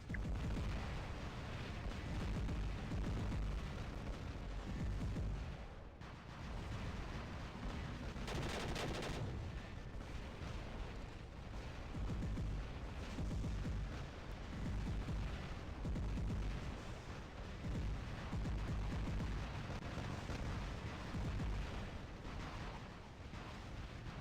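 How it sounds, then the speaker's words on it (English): Artillery weapon firing in the War Robots mobile game, a dense, continuous run of booming blasts and rumbling explosions with no talk. "Takes a long time for it to land, but if you like artillery, this is a great weapon."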